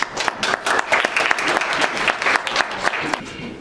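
An audience claps warmly to welcome a doctor giving a talk on environmental damage and health, a brief burst of dense applause that swells and then begins to thin out.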